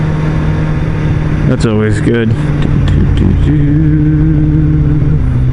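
Motorcycle engine braking, engine note stepping down through quick falling pitch sweeps under steady road and wind noise, with a rider speaking briefly over it.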